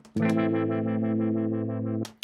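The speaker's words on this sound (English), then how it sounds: "that's essentially how we create a harmonic tremolo." A sustained electric guitar chord wobbles in a steady, rapid harmonic tremolo pulsing at 6.2 times a second for about two seconds before cutting off, with a short click afterward.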